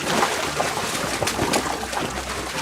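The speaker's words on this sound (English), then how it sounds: "I'm going to create the boat actually going through the water." Foley effect of a boat going through water, made by hand in a sound studio: soft sloshing and trickling of water with small splashes and a few sharper drips, moderately close and continuous, without voices.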